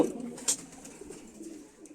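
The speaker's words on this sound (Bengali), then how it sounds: "এই যে এই কবুতরগুলো আসলো" Pigeons arriving at the loft at the end of a 40 km pigeon toss: faint cooing and soft wing sounds close by, with a brief sharp chirp over a steady background murmur.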